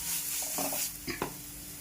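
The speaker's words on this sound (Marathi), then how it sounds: "हळद घालून छान परतून घेऊया." Green chillies sautéing in hot oil with turmeric and asafoetida, a soft continuous sizzle with a couple of quick stirring scrapes near the end.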